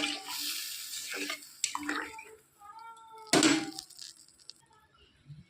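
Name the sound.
pouring spice rinsing water into curry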